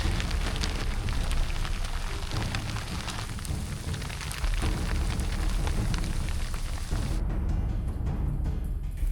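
Steady rain falls during a mountain trek, a dense, loud hiss of drops striking close surfaces. It continues without pause, with a low rumbling underneath and a slight change in texture near the end. No one speaks.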